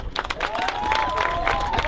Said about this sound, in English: Everybody give Trey a round of applause.